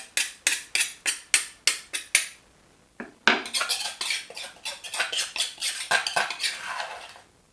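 Pounded spice paste being mixed into pork belly frying in a pan: a run of sharp, regular utensil taps against the pan, a short pause, then busier scraping and clinking strokes, close and loud with no talking.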